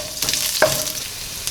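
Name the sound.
broken wheat roasting in a pan for upma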